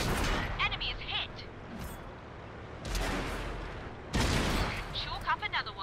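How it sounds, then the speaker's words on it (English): Tank gun firing in the World of Tanks video game on PS4, several sharp booming shots spread across a few seconds, with game voice callouts heard between them. "Gun loaded. Ready to fire on target."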